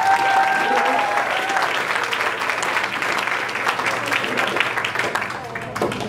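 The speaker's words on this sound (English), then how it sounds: "can we please get a round of applause for those newlyweds" Wedding guests at a country club applauding the newlyweds, a full, sustained round of clapping from a sizable crowd with voices mixed in, steady throughout.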